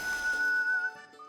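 A single steady whistle blown between the pointer and middle fingers holds one clear tone for about a second, then fades into a faint tinkling.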